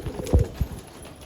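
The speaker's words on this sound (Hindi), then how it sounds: "ये देखो ये रहा वो कबूतर" A pigeon gives a few low, soft coos in quick succession, close by and fairly quiet against faint background noise.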